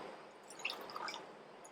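Water is stirred into rice flour in a cup as kolukattai batter is made, giving soft wet drips and squishy splashes, quiet and close, with no voices.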